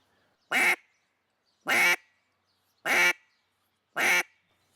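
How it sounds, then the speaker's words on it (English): Four separate duck-call quacks from a class taught by a world-class duck caller, each a short, loud, raspy burst evenly spaced with silence between, sounding close and clear. "you guys are just gonna go around, do your quacks"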